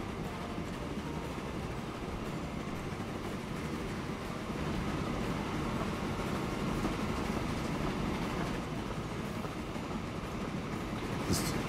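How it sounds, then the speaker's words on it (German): A train rolls along track in the railway simulation game Train Fever, a steady low rumble with faint rhythmic clatter that continues throughout and swells slightly midway, with no speech. "So, der erste Zug, der jetzt hier fährt."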